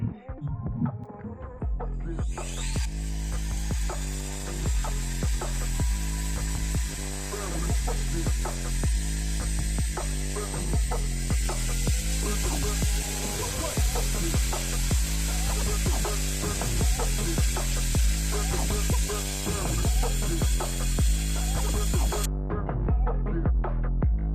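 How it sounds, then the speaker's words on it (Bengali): A power drill whirs steadily for a long stretch drilling holes for a hamster house, with a rhythmic throbbing hum, then cuts off abruptly near the end. "ড্রিল করে ফেলি"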